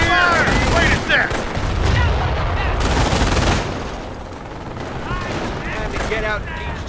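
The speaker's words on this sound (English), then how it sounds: "Dropping round! Battery under smoke! Battery fire!" An artillery battery and gunfire rage in a Company of Heroes battle at Omaha Beach in Normandy, with dense overlapping bursts and booms, loud and continuous, while voices shout over the din.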